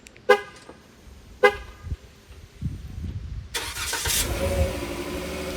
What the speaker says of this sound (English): So all I have to do is just lock the vehicle and press this twice.